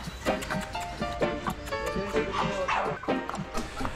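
Several dogs in a kennel, including Pomeranians and American Bullies, bark and yip repeatedly in quick overlapping bursts, close and loud, with some whimpering mixed in.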